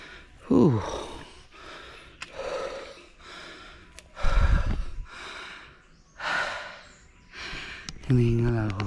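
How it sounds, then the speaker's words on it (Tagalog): Heavy, audible panting after climbing 208 steps at an eco park on Mt. Arayat, with repeated loud breaths and gasps in bursts close to the mic, a voice speaking briefly near the end. "Hinihingal ako, guys."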